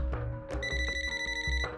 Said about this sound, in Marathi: नाव घेतलं ना त्यांचा फोन आलाच